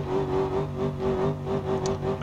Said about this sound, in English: Maxing up our rev limiter